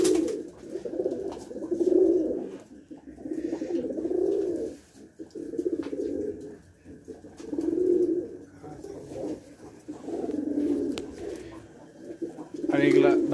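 Rajshahi Giribaz pigeons coo in steady repeated low throaty bursts, several in a row at close range, with faint chirps and some talk in the background.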